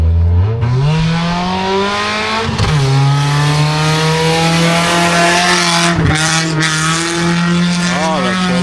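Wreck race cars revving hard on a race track at a motorcycle fair in Toruń, a loud continuous engine drone climbing and falling in pitch with sharp gear shifts, close and steady throughout.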